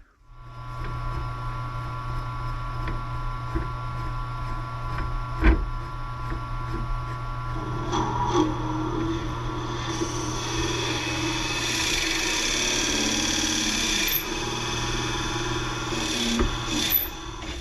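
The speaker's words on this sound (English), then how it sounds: "So now what I want to do is I want to drill a hole in it" A steady mechanical whir of a drill boring into wood, rising to a louder grinding rasp midway, with brief knocks and no talking.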